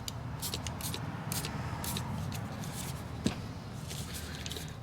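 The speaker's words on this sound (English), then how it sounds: "So I'm just going to give it a spray" Turquoise, purple and blue spray paint hissing in repeated short bursts onto a small handmade journal cover, close and fairly loud over a steady background hum, with a single sharp knock partway through.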